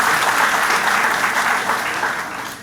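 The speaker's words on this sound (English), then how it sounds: "I want a big applause for the team." Loud, dense applause for the team at a university young investigators' meeting in Kashmir, a steady roar of many clapping hands that tapers slightly at the end.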